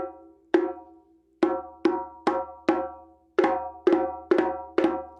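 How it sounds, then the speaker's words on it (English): Djembe slap tones ring out as sharp, bright hand strikes, about ten hits at an uneven pace with some doubled flam strokes, each decaying quickly. The drum is close and alone, with no voice. "The slap is a harmonic. It sounds like this."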